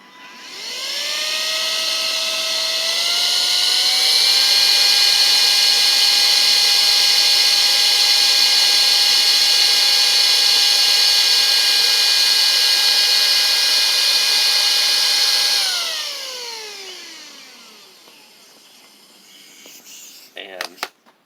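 A VOGMA VMonster V7 air duster inflates an inner tube with a loud, steady high-pitched whine that rises as it spins up, holds for about fifteen seconds, then winds down, followed by a few faint clicks.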